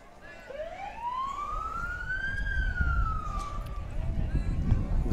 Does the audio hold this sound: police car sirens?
yes